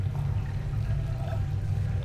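Water flows in a steady, low rushing stream in The Witness, a continuous close pouring sound with no breaks.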